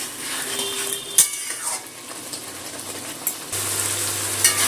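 A tomato, ginger and green chilli paste is sautéed in a pan, with a steady soft sizzle and intermittent scraping and clinks of a stirring utensil against the metal.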